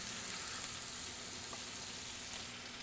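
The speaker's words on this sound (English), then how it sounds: "It's time to add the tofu." Marinated tofu frying in olive oil for Jamaican jerk tofu, a faint, even, continuous hiss of oil with no breaks and no talking.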